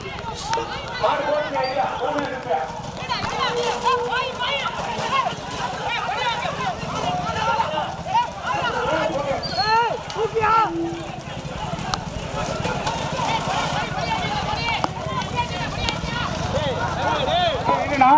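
Racing bulls pound along at a Tamil bullock cart race, a continuous fast clatter of hooves and wheels over noisy crowd chatter, with voices shouting throughout.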